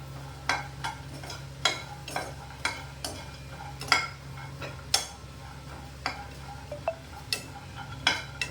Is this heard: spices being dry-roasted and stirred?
yes